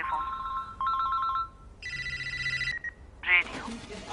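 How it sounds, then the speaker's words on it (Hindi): A telephone rings in short electronic trilling bursts, a steadier tone following, set against a movie scene's soundscape with some other sounds near the end. "टेलीफोन,"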